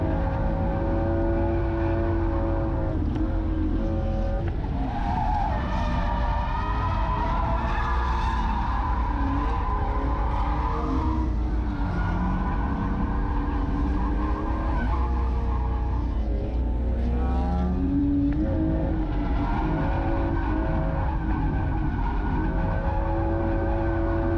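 A car is driven hard around a race track for several laps, pushing the limits of its suspension. Engine revs rise and fall continuously with repeated tire squeals and skidding, loud and close, with no talking.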